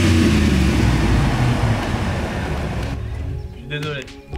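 A Chevrolet Tahoe on the move, its engine and exhaust a heavy low rumble mixed with road and cabin noise, loud and steady before easing off near the end, with people talking inside.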